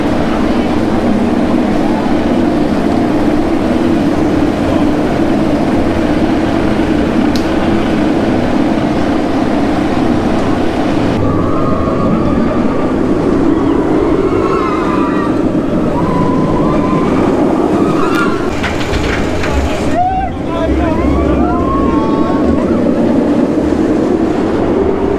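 A ride on the Nemesis Inferno roller coaster at Thorpe Park, a loud continuous rumble of the train on its track with heavy wind buffeting, and faint screams partway through.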